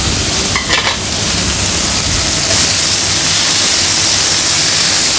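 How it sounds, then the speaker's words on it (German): Fish frying skin-side down in a hot pan, a loud, dense, steady sizzle close to the microphone with a brief scraping stir near the start. "die Hautseite, die lasse ich weiter braten, bis das Eiweiß hier oben austritt"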